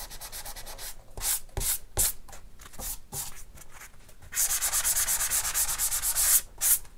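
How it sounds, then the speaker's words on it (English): Rhythmic scratchy rubbing strokes of a sanding pad across the painted surface of a BB-8 droid model, several distinct passes, then a longer continuous stretch of sanding, close up. "I'm just gonna knock it back as I did last time with a sanding pad"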